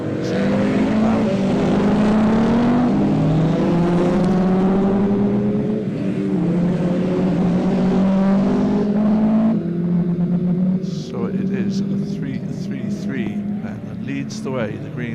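Rallycross cars racing at a BTRDA Clubmans Rallycross Championship round, including a Peugeot 205 GTI: loud, rising engine notes as cars accelerate past, fading toward the end, with a commentator talking over them.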